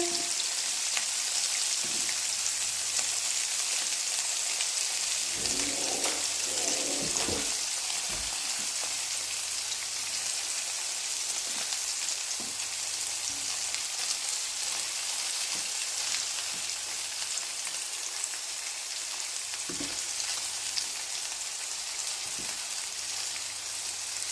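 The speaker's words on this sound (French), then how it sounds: "On va les retourner pour les rôtir sur toutes les faces." Homemade meatballs browning in a frying pan make a continuous light crackle, like rain on a surface, broken by a few louder pops and turning sounds.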